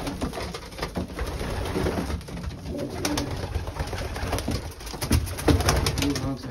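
Racing pigeons coo softly inside a loft, with low murmuring calls and wing flutters over a steady rustling background.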